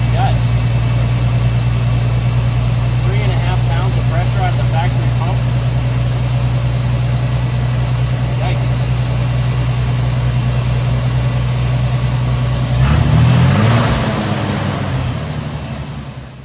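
A carbureted square body truck engine runs after a carburetor swap, idling steadily and loud up close with a low hum, then revving briefly before settling, while a person talks over it.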